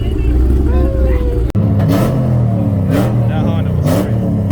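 A Honda car at a car meet revs hard nearby with sharp, rising bursts and crackling pops over a rumbling exhaust, while people talk loudly in the crowd.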